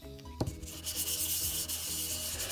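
Abrasive sanding on a metal fidget spinner being worked toward a mirror polish: a steady, close scratchy rubbing that runs continuously after a brief knock at the start, with no talking.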